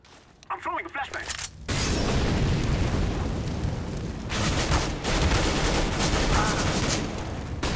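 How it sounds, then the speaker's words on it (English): A flashbang grenade in CS:GO goes off with a sudden loud burst, followed by a sustained dense roar and ringing noise that swells again partway through, after a short stretch of quieter game sounds. "flashbang"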